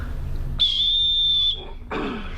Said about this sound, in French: Tiens, je t'ai trouvé un sifflet